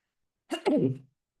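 A single close, loud human sneeze: a sharp intake burst followed by a longer explosive release, alone against silence.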